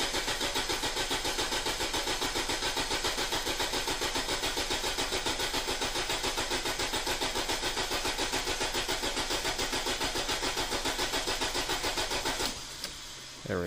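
A 2005 Audi A4 1.8T turbo engine cranks on the key in one long, steady, loud churning run of rapid even starter pulses that stops abruptly near the end; the engine never catches.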